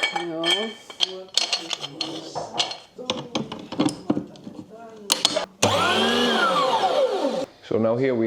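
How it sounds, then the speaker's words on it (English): A meat mincing machine for sheep meat runs with a loud, steady mechanical whine and hum after a stretch of clattering metal and handling noises, close by. "this machine is used to make minced meat"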